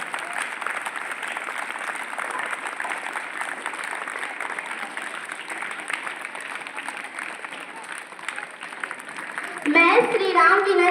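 Loud, sustained applause fills the hall at a school event welcoming guests, steady crowd clapping with children's voices mixed in and a burst of closer clapping near the end.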